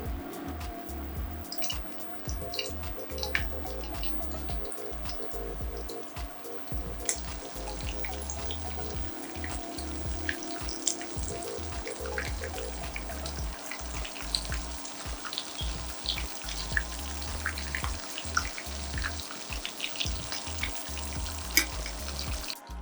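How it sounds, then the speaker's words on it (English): Breaded pork chops frying in oil give a steady, dense crackle and hiss that runs throughout with no pauses, and faint watery clinks and drips come through underneath. "we're going to drop in our pork chops, nicely breaded up"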